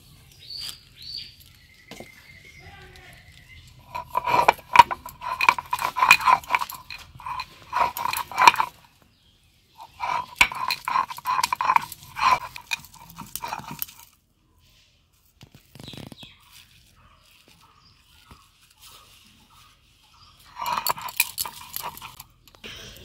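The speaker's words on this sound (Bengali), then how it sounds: "এবার আমি শিলনোড়ায় বেটে নেব।" Boiled jackfruit is ground without water on a shil nora grinding stone, giving rhythmic bursts of rapid knocking and rolling grinds that come in several separate rounds with quiet gaps between them.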